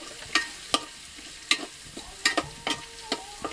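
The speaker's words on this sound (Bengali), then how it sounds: "মাংসের সাথে মিশিয়ে দিচ্ছি মশলাগুলোকে।" Meat and ground spices, including ginger and mustard paste and cumin, are stirred in a hot pan, with repeated scraping strokes of a spoon over a steady sizzle.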